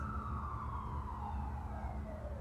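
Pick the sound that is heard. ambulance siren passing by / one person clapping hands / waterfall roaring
ambulance siren passing by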